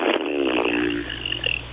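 A man imitates a Bronx cheer, sticking his tongue out to make a buzzing, wet fart-like raspberry that lasts about a second, close and fairly loud, then trails into quieter room noise.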